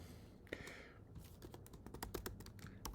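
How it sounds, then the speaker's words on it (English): Someone types notes on a computer keyboard, a quick, uneven run of close, soft key taps over a faint background hum. "just typing something out here in my notes"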